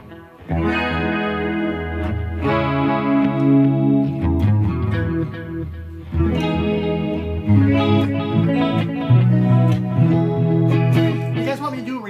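Electric guitar with a shimmering 80s clean chorus effect and no reverb, playing sustained chords and melodic phrases in a dry, close sound without room echo.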